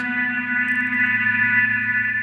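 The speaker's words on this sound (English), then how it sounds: "feeding the reverb back in. This is still the tone of the reverb" An electric guitar plays through a modified Black Lodge reverb and delay pedal with the reverb fed back into itself, giving a sustained, washed-out chord that rings on evenly with a faint shimmering tail.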